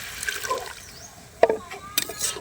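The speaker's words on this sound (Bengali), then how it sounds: "এবার অল্প করে জল দিয়ে দিচ্ছি।" Small splash of water poured into a pan of spinach, radish and bori vegetables, a brief liquid spatter and sizzle amid faint kitchen noise.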